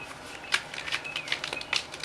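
Tarot cards being shuffled by hand nearby, a quick series of soft riffling snaps and papery clicks in short bursts, quiet and with no speech.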